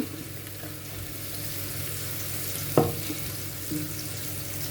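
Washed rice fries in a pot as a wooden spatula stirs it, giving a steady soft sizzle and scraping with one sharp wooden clack against the pot partway through.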